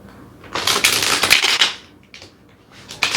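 A deck of tarot cards shuffled by hand in crisp, papery bursts, with two long riffling runs, a short pause and a final quick flutter, close and clear with no voices.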